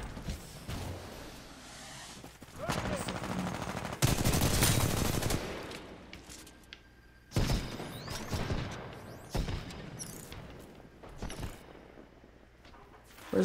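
Automated turret gunfire in the Titanfall 2 multiplayer game, loud bursts of rapid shots repeating in clusters across the clip, with a heavier sustained volley partway through.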